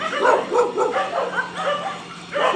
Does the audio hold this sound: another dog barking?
yes